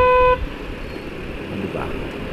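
Loud motorcycle horn toot, a single short blast with a clear harmonic stack at the very start, then busy roadway traffic noise in Parañaque carries on underneath.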